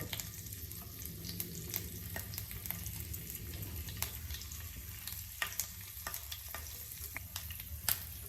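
Curry leaves on their stems crackle and spit in hot coconut oil for a Kerala-style sardine fry, a steady close sizzle broken by sharp pops throughout.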